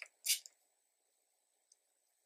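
A hair moisture mist, an oil spray, gives one short close spritz near the start, a quick hissing burst followed by a tiny click and near silence.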